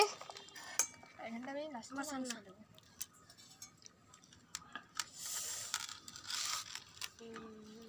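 Steel cutlery and dishes clink steadily as a family eats a picnic meal of egg and potato curry while sitting in front of their house, with people talking over the clatter.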